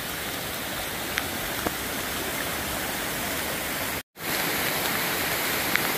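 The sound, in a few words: Madakaripura twin waterfall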